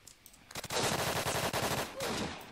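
A PPSh submachine gun fires in a video game, opening with a few single shots and then a loud, close, sustained rapid-fire burst that cuts out briefly and resumes.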